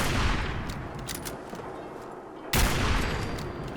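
Gunfire in Fallout, a dense crackling burst of shots that dips and then returns with a sharp, loud onset, heard alone without talk.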